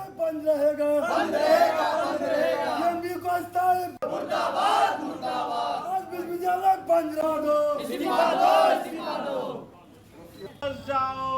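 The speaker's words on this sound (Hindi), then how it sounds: "बीते दिनों 6 दिनों से अलग अलग संगठन के कार्यकर्ता यहां प्रोटेस्ट कर रहे हैं" Protesters at a university demonstration chanting in unison, loud rhythmic call-and-response voices in repeated phrases, close and sustained, briefly dropping before resuming.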